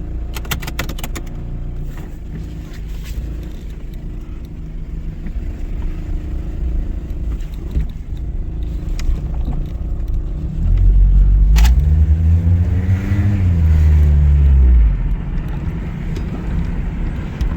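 A 1993 Toyota Celica GT with new rear struts rumbles along steadily from inside, with road and engine noise throughout and a louder low swell near the middle as it accelerates.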